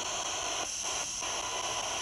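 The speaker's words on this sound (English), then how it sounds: "white noise all the time" Steady hissing radio static fills the air at low volume, a constant white-noise wash with two brief dips in texture.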